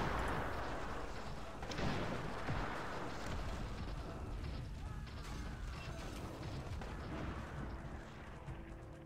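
Repeated cannon fire from a Cossacks: Back to War real-time strategy battle, a dense, continuous rumble of blasts and mechanical clatter running steadily throughout without talk.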